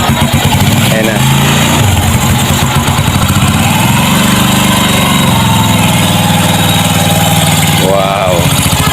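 A motorcycle modified for a rider without hands, with a foot-operated clutch and throttle, runs loudly at a lumpy idle and revs, with voices talking over the engine throughout.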